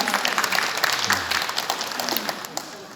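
Audience applause at an award ceremony for the national sharing awards, where a prime minister's commendation is presented: continuous clapping from a seated crowd, moderately loud, with sharp individual claps standing out and tapering slightly at the end.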